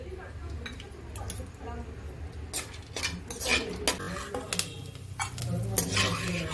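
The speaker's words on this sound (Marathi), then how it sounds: "थोडंसं तूप टाकून घेते, त्यात आपण काजू आणि बदामाचे काप तळून घेऊया" Cashew and almond slices frying in ghee, a light sizzle under clinks and scrapes of a utensil against the pan, with a person speaking over it.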